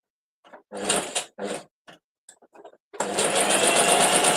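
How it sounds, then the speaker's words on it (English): A sewing machine whirs in a few short bursts, then runs loud and continuous at close range, with a steady mechanical drone. "my sewing machine apparently sounds like a train coming"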